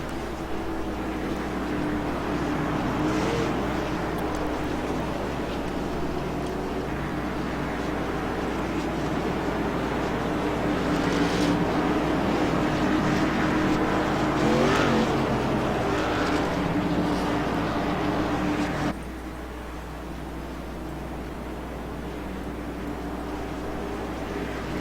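Race cars idle along at pace-lap speed behind a pace car with its lights off, a steady, loud engine drone from nearby that holds level before dropping slightly toward the end.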